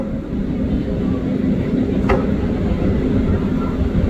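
KRL commuter train arriving at Manggarai station, a steady, loud, low rumble with a brief hiss partway through.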